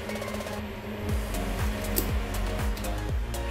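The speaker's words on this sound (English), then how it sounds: "And excuse the construction noise in the background." Construction work at a neighbouring apartment block carries in as a continuous mechanical drone with a repeating rhythmic thumping pulse about every half second, steady and moderately distant, with no talk over it.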